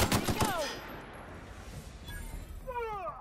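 Gunfire in the video game The Outer Worlds: a quick burst of loud shots at the start, then fading reverberant tails and synthetic whooshing game effects, with no talking.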